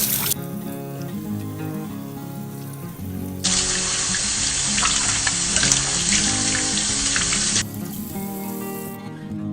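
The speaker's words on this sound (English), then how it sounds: "So I'm going to wash my cucumbers first." Tap water runs into a sink to wash cucumbers before they are fermented into dill pickles: a steady, loud rushing stream that starts a few seconds in, lasts about four seconds and stops, over a continuous tonal background.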